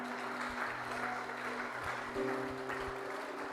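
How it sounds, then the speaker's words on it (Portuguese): A church congregation applauds after a pastor's call to honor the name of Jesus, a steady moderate patter of many hands mixed with a sustained tone from music or a keyboard underneath. "Você pode aplaudir bem forte o nome de Jesus"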